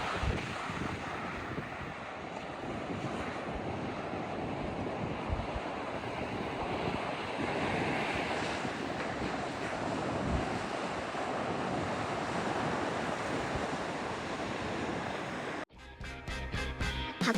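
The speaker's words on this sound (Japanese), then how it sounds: "波の音でめっちゃ癒されます。" Surf rolling onto the Hokkaido shore in winter, a steady broadband wash of breaking waves with wind buffeting the microphone, continuous and fairly loud, ending in a brief burst of clicking handling noise.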